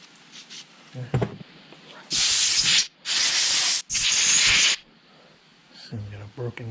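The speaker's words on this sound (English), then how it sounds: "Spray this around." Three loud, separate bursts of aerosol spray hiss close up around a broken gasket on a Briggs & Stratton Vanguard V-Twin engine of a Billygoat industrial blower, with quieter handling noises before and after.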